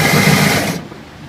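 An ice shaver grinds ice into fine snow with a loud, close motorized whir and rapid chattering buzz that cuts off after less than a second, leaving a fainter fading rumble.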